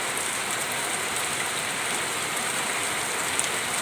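Steady rain pours down outdoors, a dense continuous hiss of drops striking surfaces, fairly close and even throughout with no voices.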